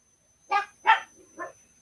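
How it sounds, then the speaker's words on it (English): A pet dog barks indoors three times in quick succession, short and fairly loud close to the listener, with a faint steady tone in the background and no talking. "Even my dog is complaining."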